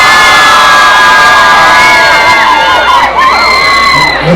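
A crowd cheers, whoops and shouts loudly for Team Haitian patties, excited voices overlapping in one sustained burst of noise.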